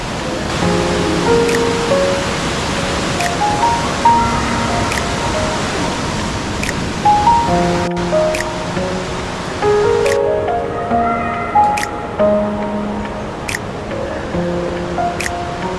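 River water rushes steadily near Carbet Falls in Guadeloupe, a continuous loud broadband wash of flowing water with light musical tones playing on top and no speech.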